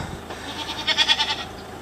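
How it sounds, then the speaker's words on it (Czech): A single goat bleats once, a short wavering cry rising and pulsing over about a second, fairly close, with faint background noise before and after. "opět bereme Kaju, kozu Amalku a 2 ovečky"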